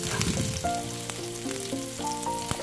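Mustard seeds, a whole dried chili and chopped onion sizzle and crackle steadily in hot oil in a pan for an Assamese dish, close and continuous, with faint tonal clinks over the frying.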